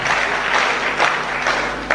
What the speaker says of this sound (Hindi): आप ताली क्यों बजा रहे हैं?